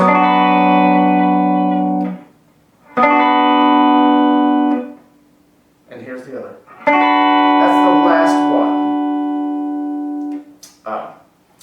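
An electric guitar rings out a partial barre chord in several sustained strums, each left to decay before the next, with someone speaking in the short gaps between them.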